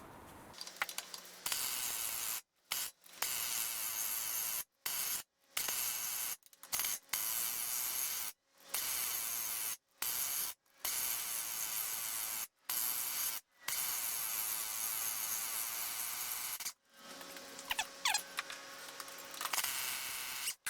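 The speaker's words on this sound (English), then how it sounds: "I'm gonna try and use the air gun." An air impact gun rattles loose 18mm brake bolts on a BMW 1 Series E87 118i, loud sustained hammering bursts repeatedly starting and stopping with short silent gaps, close up in a workshop.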